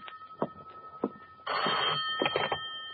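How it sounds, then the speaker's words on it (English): A 1950 radio-drama telephone rings in short bursts, then a longer sustained ring, clear and close in an otherwise quiet apartment scene. "my phone rang"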